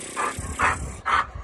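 An American Staffordshire Terrier, a big, fast, athletic three-year-old, gives three short, clear vocal bursts spaced evenly and close by, with no talk over them.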